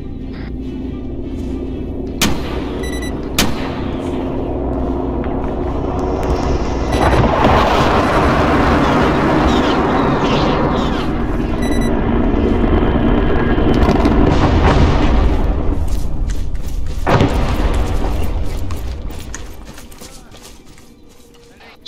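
An Mi-24 Hind helicopter is shot down in a military video game: a sharp crack and thump, then a long, loud rumbling roar of crash and explosions with scattered bangs, swelling and then fading to near silence at the end.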